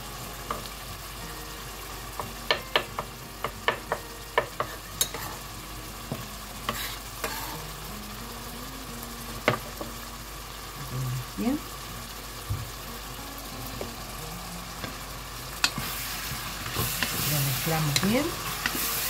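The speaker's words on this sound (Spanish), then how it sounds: "vamos a dejar que se vaya sofriendo el tomate" Tomato sizzles softly as it fries in a pan for a beef and vegetable dish with celeriac, with sharp spoon taps and scraping strokes scattered over the low steady crackle.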